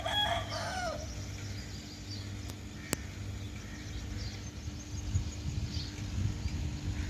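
A rooster crows once at the start, somewhat distant, over a steady outdoor hum and faint background noise.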